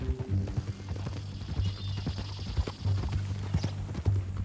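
Horse hooves clip-clop at a steady walking pace in Red Dead Redemption 2, even rhythmic thuds near and clear over a low hum and soft game ambience.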